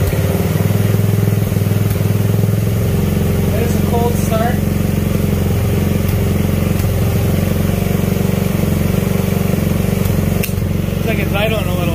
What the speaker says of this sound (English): Previous owner put a pro circuit muffler on this thing. It sounds so good.